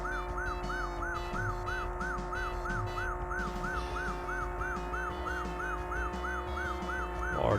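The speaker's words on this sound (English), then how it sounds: "I know you're probably tired of hearing that siren" A police siren from the arcade driving game Taito's Chase H.Q. wails up and down in a steady, regular cycle. It runs continuously over the game's engine drone and music.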